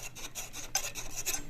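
A Yamaha Virago fork leg slides out of the fork tube in a quick series of rasping, scraping strokes, close and fairly quiet, with no talking.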